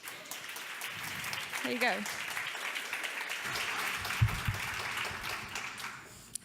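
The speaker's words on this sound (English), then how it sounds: "Warm round of applause, please." An audience at a food conference talk gives a warm round of applause, a steady mid-level clapping wash lasting several seconds while a voice speaks briefly over it.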